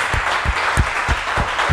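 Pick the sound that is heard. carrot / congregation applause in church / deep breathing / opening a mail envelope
congregation applause in church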